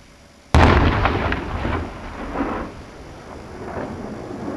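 An explosive charge fired in a borehole bursts with a sudden, loud, deep blast, then a long rolling rumble and echoing crackle that fades over several seconds.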